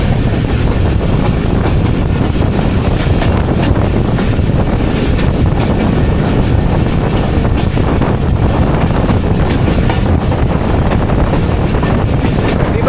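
Karakoram Express 42 Down, a Pakistan Railways train hauled by an HM 30R locomotive, roaring past up close with continuous loud rumble and rattling wheels, steady throughout.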